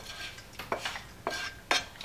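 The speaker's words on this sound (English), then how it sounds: "And now I mix everything together." Pasta being mixed with ricotta and courgette in a pan, three or four soft wet scraping strokes of a utensil, close and fairly quiet, with no talking.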